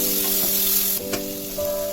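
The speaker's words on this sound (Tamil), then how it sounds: "தக்காளி வந்து 1 பொடியாக நறுக்கி போட்டுக்கலாம். ஸோ இப்போ போட்டுட்டு நல்லா வதக்கிக்கோங்க." Finely chopped tomato sautés in a hot pan, giving a steady bright sizzle with a few brief stirring knocks, alone without talk.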